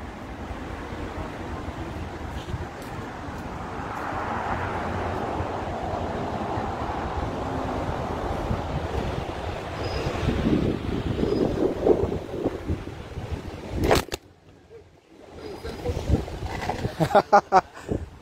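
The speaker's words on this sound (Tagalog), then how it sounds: "Malakas ang hangin eh." Strong wind roars and buffets the microphone in rumbling gusts at an outdoor event in The Hague, with a voice talking over it and sharp knocks and rustles near the end.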